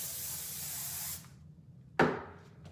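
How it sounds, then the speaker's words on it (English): Control Medium hairspray hisses from an aerosol can onto hair in a salon for about a second, stops, then gives a sharp short burst, close and alone. "Come in with our new Control Medium hairspray"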